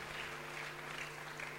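Audience at an outdoor televised village gathering in Bletterans gives Virginie a steady, faint round of applause with no talking, heard from a distance over a low hum.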